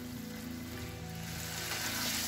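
Potatoes sizzle and fry with spices in a pan for aloo palak, a steady dense crackling hiss that swells slightly toward the end, close up with no talking.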